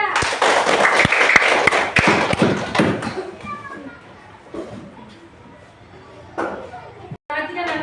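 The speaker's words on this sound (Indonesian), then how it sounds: "Tepuk tangan ya." Students in a classroom clapping together in a loud burst of rapid hand claps that fades after a few seconds, followed by a teacher speaking.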